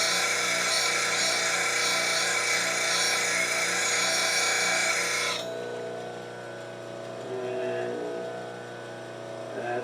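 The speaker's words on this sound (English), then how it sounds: "Now I'm going to grind the wings, and I'm going to stop short of the tip, but I'm going to rotate it back and forth." A bench grinder sharpens the wings of a steel spindle gouge as it is rotated back and forth, a loud steady whine that drops noticeably partway through as contact eases, continuing more softly to the end.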